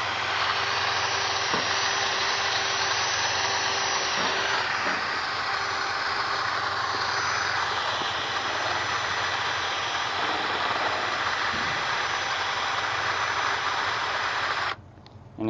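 A handheld drill spins a sanding pad against a car headlamp lens from a restoration kit, a steady, loud whirring hum that runs continuously with no talk and cuts off abruptly near the end.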